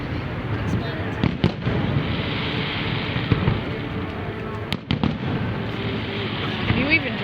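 Fireworks explode outdoors in a series of sharp bangs and crackles, with a few louder bursts standing out, heard under steady ongoing talk.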